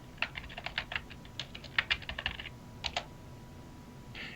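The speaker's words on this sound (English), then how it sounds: "you can just type in the search box" Typing into a search box on a computer keyboard: quick, close, fairly quiet clusters of key taps in uneven bursts, with short pauses and a final burst.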